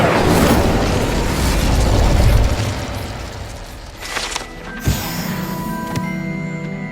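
Incendio fire spell cast in Hogwarts Legacy, a roaring fiery blast rushing loudly through the opening seconds, then fading into sharper crackling bursts and pops with a tonal magic shimmer near the end.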